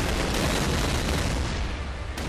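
Fireworks weapon going off in the artillery game Shellshock Live, a dense continuous crackle and rumble of bursts with a sharp pop near the end.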